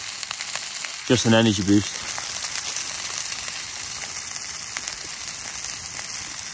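Sausages and onion fry on a camping stove while wild camping in the Lake District, giving a close, continuous crackling sizzle, with someone speaking briefly over it.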